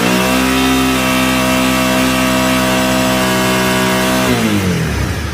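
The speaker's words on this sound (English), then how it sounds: "Now if I rev up the engine" A motorcycle engine is revved and held at a high, steady pitch, loud and close, then falls back toward idle at the end.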